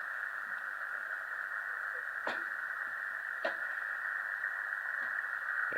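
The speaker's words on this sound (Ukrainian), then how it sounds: "О, чуєте, станції працюють." Shortwave HF band stations received through a home-made antenna tuner, a steady hiss and carrier tone with faint crackles and a few sharp static clicks, continuous and moderately loud.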